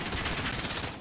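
Continuous, loud, dense gunfire fills a free-for-all shooter video game match, a rapid unbroken burst of shots heard with no talking over it.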